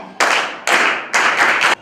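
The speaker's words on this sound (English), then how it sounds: "Clap for them." In a Standard 7 English classroom, students clap together in three loud, close bursts of group applause, each lasting about half a second, with no voices.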